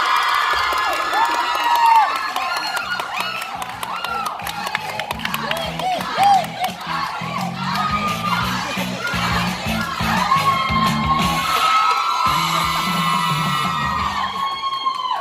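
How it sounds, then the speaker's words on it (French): An audience at an anime convention cosplay contest cheers loudly, with whoops, shouts and children's excited yells filling the hall continuously for the whole stretch. "On l'applaudit."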